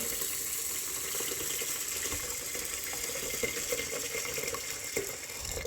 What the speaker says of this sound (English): hold your kettle here, just pour in the water